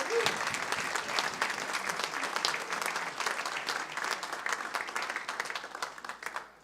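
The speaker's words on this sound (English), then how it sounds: "Everyone give a round of applause for Rick McDonald." At a Civil War reenactment band performance, an audience claps for a leader in a steady, moderately faint round of applause, with a few crisp nearby claps over the crowd and a brief voice at the start.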